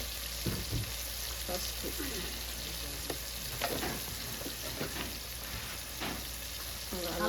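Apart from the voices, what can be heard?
village style chicken curry frying in a pan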